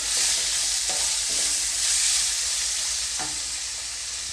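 Vegetables and finely chopped tomato sizzle loudly in a pan for vegetable masala Maggi, with a steady close hiss broken by a few short scraping stirs.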